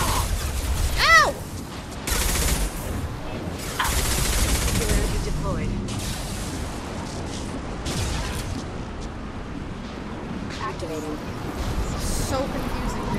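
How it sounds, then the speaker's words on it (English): Heavy gunfire rattles in Mass Effect 2, with bursts of shots and blasts in irregular clusters amid battle effects, while a player's voice talks throughout. "Taking heavy fire."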